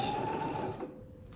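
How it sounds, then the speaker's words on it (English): A sewing machine running close up while back stitching a diagonal box pouch, a steady motor whir that slows and fades out near the end, no talking. "you're going to back stitch top and bottom"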